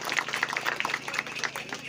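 An outdoor crowd claps for girls and performers at a tree-planting event at a river source in Dindori district, held in the rain. The applause is brief, scattered and moderately close, with voices over it.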